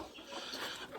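Hens peck at food scraps and give a brief, soft clucking, then a sharper cluck right at the end.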